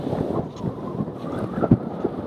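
Strong wind gusts on an extremely windy but fine day, roughly 20 mph or more, roar steadily across the microphone with louder buffeting bursts, alone with no talk.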